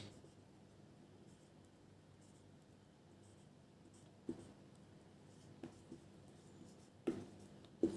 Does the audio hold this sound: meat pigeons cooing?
no